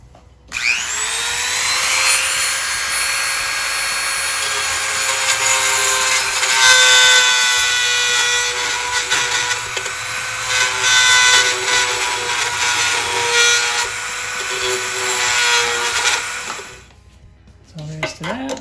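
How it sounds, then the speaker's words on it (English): A Dremel rotary tool with a small carving bit grinds into cracks in a live edge cherry wood bowl, a loud, steady high-pitched whine with a rasping edge that runs continuously, then cuts off near the end. "I just have my Dremel with a small carving bit on it, and I'll just turn that on and get into these cracks and clean them out."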